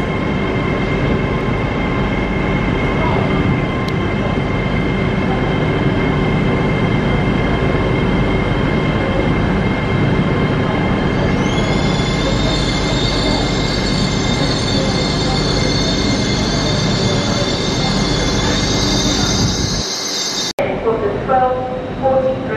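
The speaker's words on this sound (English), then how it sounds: "LNER service to Edinburgh 801-204." An LNER Class 801 train, unit 801-204, moves through York station on a service to Edinburgh, with a steady loud rumble of wheels and high whining squeals rising partway through before the noise cuts off near the end.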